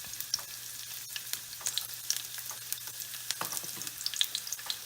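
Green chilies and garlic fry in hot oil with a soft, steady crackling sizzle and scattered small pops, close and fairly quiet, with no talking.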